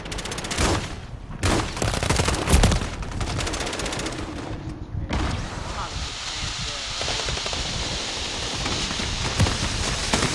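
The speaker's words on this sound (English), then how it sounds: "I'm getting shot by 3 different niggas!" Call of Duty gunfire, with rapid, crackling bursts of automatic fire and sharp single shots close by, continuing as a dense stream of shooting while a player talks loudly over it.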